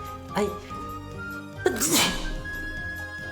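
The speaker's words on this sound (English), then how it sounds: "I've been sneezed on." A sneeze bursts out during a lively birthday gathering, a sharp nearby explosive exhale rising over background chatter and people talking.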